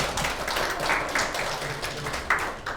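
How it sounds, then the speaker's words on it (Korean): A church congregation offers welcoming applause, a moderate patter of hand claps in a reverberant room with a few sharper individual claps standing out. "환영의 박수 한번 주시고,"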